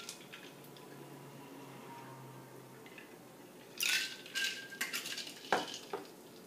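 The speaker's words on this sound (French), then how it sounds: "dans un verre à cocktail, on rajoute de la glace, puis on sert notre mélange" Ice clatters into a cocktail glass and a rum Planter's Punch is poured over it, making a burst of close clinks and rattling followed by a short splashing pour, with no talking.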